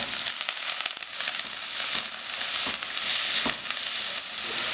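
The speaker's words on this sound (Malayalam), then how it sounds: "ഇനി ഇവിടെ ചെറുതായി മുറിച്ച് വെച്ചിരിക്കുന്ന ഉള്ളി ഇട്ട് നന്നായിട്ടൊന്ന് വഴറ്റിയെടുക്കണം" Chopped onions with green chilli and ginger sauté in a hot pan for a drumstick-leaf and shark thoran, giving a steady, close, even sizzle with faint stirring scrapes and no voices.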